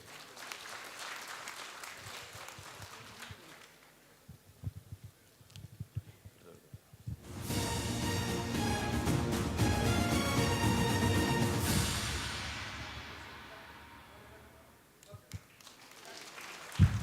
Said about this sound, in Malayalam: അദ്ദേഹത്തിന് നല്ലൊരു കയ്യടി കൊടുക്കുക.